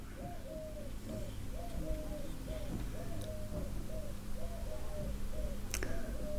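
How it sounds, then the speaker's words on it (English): A pigeon coos repeatedly in a steady rhythmic series of soft, hollow calls, close by, over a low background hum with a few faint clicks. "Goddamn pigeon."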